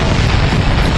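A Mandung cannon blast in a sea battle, a loud, close explosive roar with deep rumbling low end, lasting about a second, with no voices.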